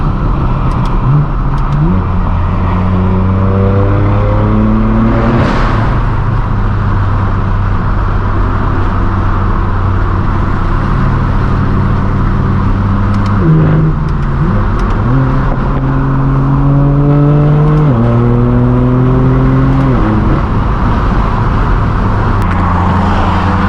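Straight-piped BMW M4 F82 accelerating hard from inside the car, a loud raw exhaust roar rising through the gears with repeated upshift drops and climbs, steady and dominant throughout.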